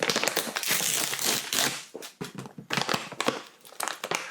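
Carolina Reaper pepper package unboxed, loud close crinkling and crumpling of plastic wrapping in continuous bursts with short pauses, no talking.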